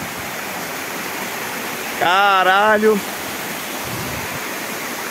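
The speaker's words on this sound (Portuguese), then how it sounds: "A cachoeira vem de lá." Steady broadband rush of a waterfall seen from its base on a hike, continuous and fairly loud throughout, with a man briefly exclaiming over it midway.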